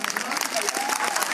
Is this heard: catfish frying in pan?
no